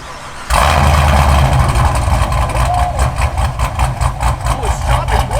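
A cammed Chevrolet Camaro engine rumbles to life on remote start and settles into a loud, choppy idle with a rhythmic lope, heard up close outdoors as people talk nearby.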